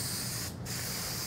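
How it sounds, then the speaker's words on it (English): A continuous hiss of a spray paint can, close up, applied to a picnic table being resurfaced, with a brief break in the middle before the spray resumes. "I don't always use spray paint"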